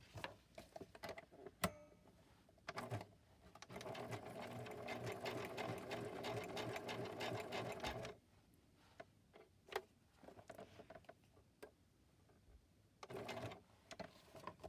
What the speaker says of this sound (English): first what I'm going to do is sew along this side where it's all completely open